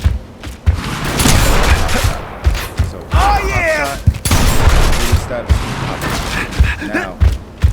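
Shotgun pop shots in the video game Gears of War fire in quick repeated bursts amid dense game noise, with loud thumps and clattering impacts throughout and a voice talking over parts of it.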